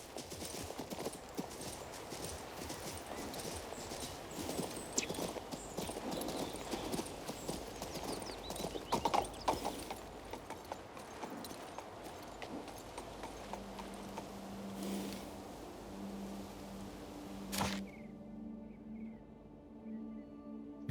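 Horse hooves clip-clop steadily in King's Bounty II, a continuous rhythmic trot with layered ambient game sound, easing off near the end as a low tone takes over.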